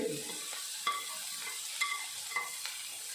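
Chili, garlic and ginger are sautéed with softened tomato in a pan for a Kerala-style egg roast, a steady hiss of frying with several light spoon scrapes and taps at intervals.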